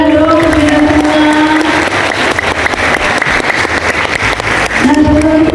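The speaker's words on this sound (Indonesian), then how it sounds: "Tepuk tangan dong kita semua." A group at an outing class event claps together, a short burst of crowd applause at close range. Voices talk before and after it.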